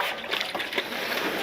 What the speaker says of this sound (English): We wash it with the warm water first.